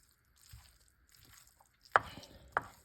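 Melted cheese is stirred into baked pasta fresh from the oven. Soft, sticky squishing comes first, followed by two sharp utensil clacks against the dish, all quiet and close.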